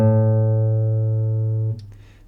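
A single guitar note, the open A on the fifth string, rings clean and steady for under two seconds before being damped, leaving faint string noise.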